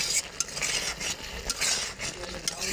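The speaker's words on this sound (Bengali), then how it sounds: "এই যে একটু নাড়া দিয়ে নিব, আর একটু ঝোলটা মরলেই হয়ে যাবে।" A spoon stirs coconut shrimp curry in a pot, with close scraping and clinking against the metal and a light simmer underneath, no talking.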